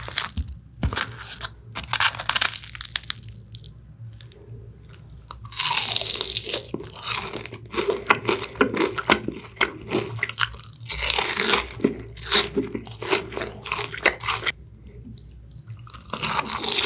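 Loud, close crunching bites into crispy boneless Cheogajip Supreme seasoned fried chicken, several sharp crackling bursts separated by quieter chewing and short pauses.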